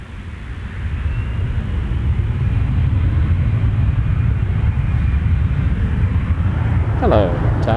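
An Air Canada heavy airliner lines up on runway 05 at Toronto Pearson, its distant jet rumble swelling after a second into a steady roar, with a brief voice-like sound near the end.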